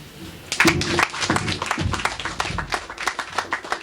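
Live audience applause at a startup program closing ceremony, a brisk burst of clapping that starts abruptly and carries on steadily for a few seconds.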